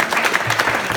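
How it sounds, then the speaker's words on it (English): A brief burst of audience applause at a rabbi's talk, dense clapping lasting about a second. "let us all give a round of applause"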